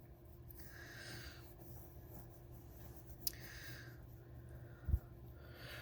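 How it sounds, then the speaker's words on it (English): A pencil sketches a figure on paper with soft, steady scratching and light rubbing strokes, heard close and quiet, with one brief tap near the end and no talking. "Any kind of pencil is fine to sketch with."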